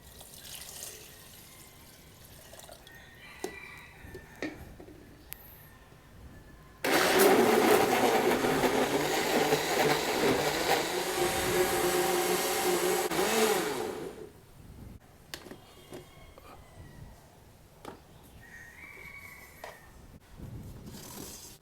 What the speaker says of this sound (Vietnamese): Các bạn sẽ cho vào máy xay.